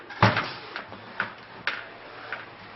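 A junk drawer in a kitchen is pulled open, giving a sharp wooden knock followed by a few lighter rattles and clicks of loose items shifting inside, close by and alone.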